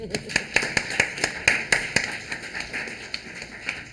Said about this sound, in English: Brief applause.